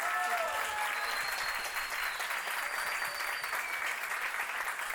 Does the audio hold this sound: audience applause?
yes